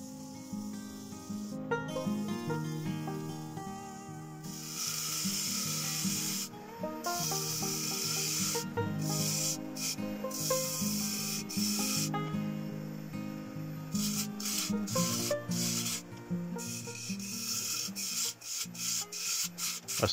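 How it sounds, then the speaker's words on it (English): Sanding the outside of a maple bowl on a woodturning lathe makes a continuous hissing rasp, close and steady for about twenty seconds with brief pauses, under background music and without speech. "I sanded the outside of the bowl and made it ready for the ebonizing process."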